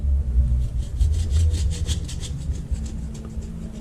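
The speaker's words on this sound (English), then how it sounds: "Hopefully I can get this gasket off." An old gasket is scraped off a rusty 1920s six-inch cast gate valve after a vinegar soak, producing repeated rhythmic rasping strokes, close and fairly loud, with a low rumble underneath and no talking.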